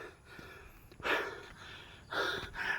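Heavy, ragged breaths and gasps after walking uphill at Pine Breeze, Malaybalay, heard close up in two strong bursts with quieter breathing between.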